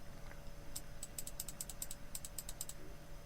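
Computer keyboard typing, heard alone as short quick bursts of clicking keystrokes in clusters over a steady low hum, at moderate level.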